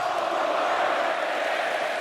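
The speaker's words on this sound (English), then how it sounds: "Crowd chanting overrated at Pavia and the Commodores." A packed stadium crowd at a 2025 Vanderbilt Commodores vs. Texas Longhorns college football game chants 'overrated' at quarterback Pavia and the Commodores. It comes as a steady, loud, dense roar of many voices with no break.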